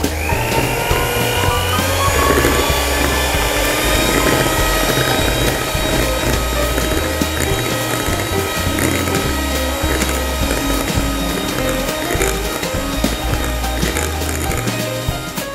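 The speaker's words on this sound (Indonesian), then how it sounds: "Lanjut dikocok menggunakan kecepatan sedang, lalu naik tingkat menjadi tinggi gitu ya, hingga mengembang tentunya." An electric mixer whips roll cake batter at medium rising to high speed, a steady loud mechanical whir with a rattling texture that holds continuously throughout.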